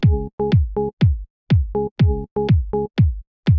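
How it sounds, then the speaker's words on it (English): Short, punchy jazz organ preset stabs from a rompler synth play a syncopated rave-style riff with a percussive attack on each chord, loud and alone. "They call it a jazz organ, but that is a total rave organ"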